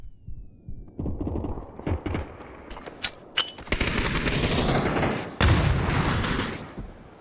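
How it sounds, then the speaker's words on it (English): Automatic gunfire in a battle royale video game: loud, close bursts of rapid shots with a few single cracks, building into long, sustained firing toward the end. "They're shooting."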